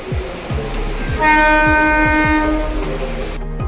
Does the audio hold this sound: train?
yes